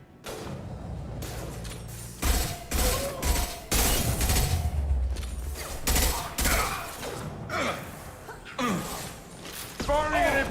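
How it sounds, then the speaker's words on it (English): Impact shot fire in the Mass Effect 2 video game: several heavy blasts and bursts land amid loud combat effects, with spoken game dialogue in between. "Firing an impact shot."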